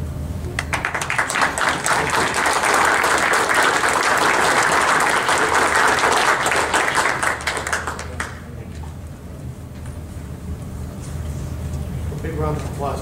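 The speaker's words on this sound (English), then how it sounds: "A big round of applause." A crowd applauds Bristol Police Explorers at an awards event, dense clapping held loud for about eight seconds, then dropping away to quieter room noise with faint voices.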